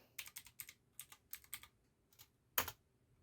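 Computer keyboard typing while entering a username during setup of an old Raspberry Pi, about a dozen quick crisp key clicks in short bursts, ending with one louder keystroke, close and quiet.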